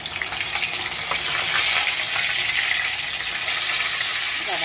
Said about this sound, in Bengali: ওদিকে মাছটা ভাজা হতে থাকে।